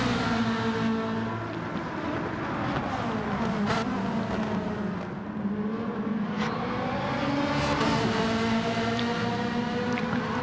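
Race cars lap a circuit in a sim racing league on medium tyres, their engines a steady, loud, droning whine that rises and falls as they shift gears, with one car chasing another close behind.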